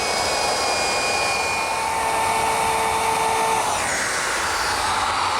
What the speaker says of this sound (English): To ease the edges of our tabletop, I'm using a 3/8 inch radius roundover bit.